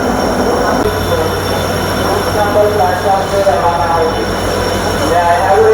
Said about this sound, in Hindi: लोगों का ट्रेन प्लेटफॉर्म में घुस रही है।